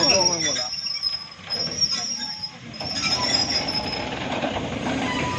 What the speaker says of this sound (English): These trains are much better than cars.